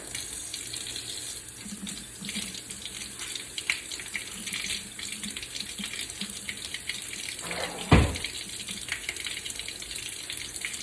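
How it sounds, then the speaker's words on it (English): Steady running water from a tap, a soft continuous hiss with faint splashing, and one brief louder clatter partway through. "I'm going to, just like before, get this piece wet with warm water"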